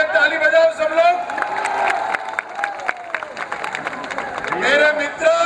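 A political rally crowd claps and cheers in waves, with whoops and a loud shouting voice over a public address system riding on top of the noise.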